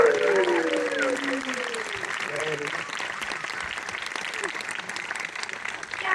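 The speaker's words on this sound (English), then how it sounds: "We should give it a couple hand claps." An audience at a live talk event claps and cheers as the film director is introduced, a sustained wash of applause under a speaker's voice at the start, with cheering fading into steady clapping.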